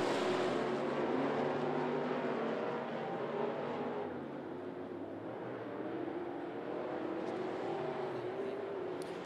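Stock cars race around 411 Motor Speedway during the Sweetheart 52 event, a car sliding hard down the back stretch; a loud, steady roar of engines holds throughout and eases slightly midway.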